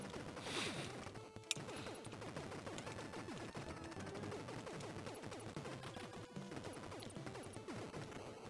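Rapid machine gun fire from the Super C video game chatters continuously and quite faintly throughout, with one sharper burst partway through.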